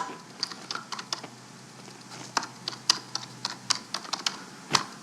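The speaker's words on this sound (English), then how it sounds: "there's no copy, so I have to type it" Typing on a computer keyboard while entering a short URL, a close, irregular run of crisp key clicks with small pauses and a firmer final keystroke, with no talking.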